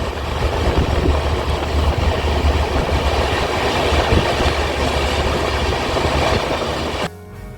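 A train at Asansol railway station rumbles and clatters steadily and loudly for about seven seconds, then drops off abruptly to a quieter hum.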